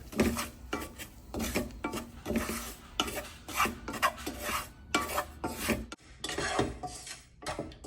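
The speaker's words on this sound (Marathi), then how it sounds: "बारीक रवा घ्यायचा आहे आणि हा आपण छानपैकी भाजून घेणार आहोत" Fine semolina roasts in a spoonful of ghee in a pan, a spatula scraping and rubbing through it in a steady, rhythmic rasp, close and fairly quiet.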